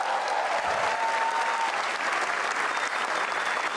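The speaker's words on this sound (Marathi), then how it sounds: "अरे कडक, एका टाळ्या होत्या." Audience applause fills a stand-up comedy show, a steady, loud wash of clapping that holds at an even level throughout without a break.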